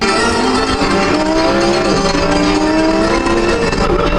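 A supercar in sixth gear drives fast, its engine droning loudly and steadily with a rising pitch and a constant rush of tire and road noise, with no talking.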